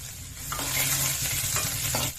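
Mustard seeds, cumin and stone-crushed ginger-garlic paste sizzle loudly in hot oil in a kadai, a close, continuous crackle with a few soft stirring scrapes.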